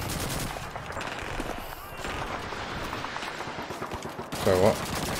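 Dense rapid gunfire from Call of Duty 2 rattles on continuously in bursts through a busy battle scene, with a sharper louder burst near the end and voices mixed into the din.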